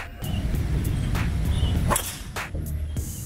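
A hard golf swing cracks against the ball in a sharp, loud whip-like hit. A few more faint knocks and swishes sound nearby, with no talking.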